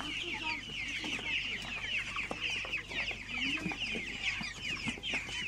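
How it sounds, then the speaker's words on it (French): A flock of chickens at an outdoor market clucks and chatters continuously nearby, with overlapping calls and a faint low hum underneath. "Et ça caquette, ça caquette."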